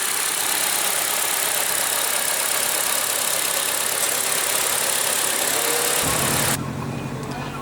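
A 2014 Honda CR-V with its 2.4 L four-cylinder engine idles in a steady, even hum that holds for several seconds, then cuts off and drops to a quieter background.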